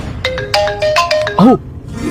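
A mobile phone ringtone in a Hindi-dubbed South Indian film scene: a short run of bright electronic melody tones, near and clear, ending in a sweeping warble.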